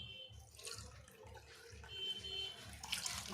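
Water trickles and splashes steadily into a bowl of rice flour batter, a soft continuous pouring with faint sloshing, fairly close and quiet.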